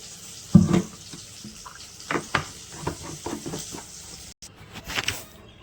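Tap water runs intermittently while something is rinsed by hand at a kitchen sink, with splashes, soft clatter of utensils and a short pause before a final splash.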